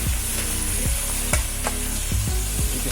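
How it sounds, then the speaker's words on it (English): Fried pompano fish is stirred in tamarind sauce over heat, with a steady sizzle and a few sharp scraping strokes of the utensil against the pan, close up and without talk. "Give that a stir."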